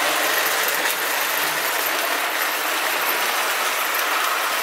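A Lionel O gauge model train runs on a home layout, giving a steady, dense mechanical rumble and whir that holds evenly throughout, fairly loud and close, with no talking.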